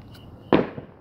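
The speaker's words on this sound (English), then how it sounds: "Seriously, fireworks?" A single loud firework blast at night bursts out midway after a quiet stretch, with a fainter echoing pop trailing about a quarter second later.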